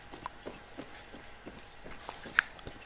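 Horse hooves clip-clop in a steady, fairly quiet rhythm in the video game Far Cry 6, with soft background ambience.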